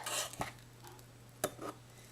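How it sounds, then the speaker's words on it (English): A spoon scrapes and taps against a metal muffin tin while pumpkin muffin batter is portioned into the cups, two short clinks apart amid quiet kitchen hum. "just take a spoonful of the mix and put it in and repeat"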